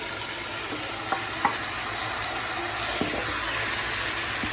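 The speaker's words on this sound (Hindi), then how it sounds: "चिकन शामिल करने के बाद इसे आहिस्ता आहिस्ता फ्राई करें।" Chicken pieces fry slowly with tomatoes in a pan for biryani, a steady close hiss of sizzling broken by a few soft knocks from stirring, with no voices.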